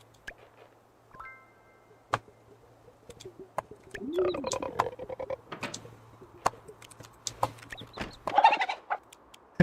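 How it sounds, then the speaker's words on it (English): Scattered chicken clucks in the farming game Moonlight Peaks, a few short bursts and one busier flurry of clucking over sparse clicks and a low steady hum, no talk. "Happy chicken"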